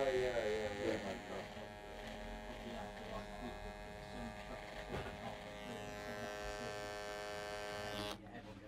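A hair clipper edges along the lip line during a beard trim, giving a close, steady electric buzz with a strong harmonic whine that holds throughout and cuts off near the end.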